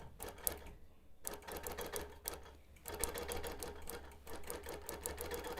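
A sewing machine basting fabric runs at a slow, steady pace, its needle tapping in quick rhythmic runs broken by short pauses, faint and close.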